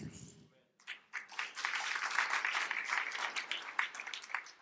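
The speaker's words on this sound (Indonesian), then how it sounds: "Ya beberapa tepuk tangan senang," A church congregation breaks into applause, a dense, bright patter of many hands that swells and holds for several seconds after a brief spoken moment.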